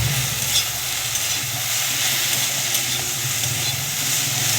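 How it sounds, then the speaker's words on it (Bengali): Okra frying on a low gas flame for a posto bhaji, giving a steady, even sizzle with soft stirring throughout, close and continuous with no talk. "আস্তে আস্তে দিয়ে এটাকে আমি ভেজে নেব।"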